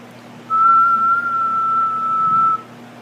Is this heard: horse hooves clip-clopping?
no